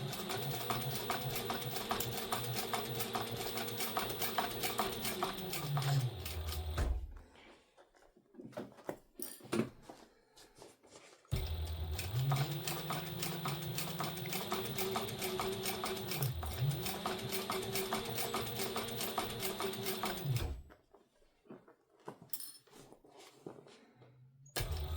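A sewing machine stitching a handbag runs in two long steady whirring bursts, slowing and dipping in pitch at times, separated by quiet pauses with faint handling noise.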